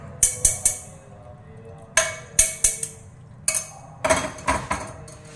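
A metal spoon stirring tea rings bright and sharp against a cup, sounding in quick bursts of two to four clinks separated by short pauses.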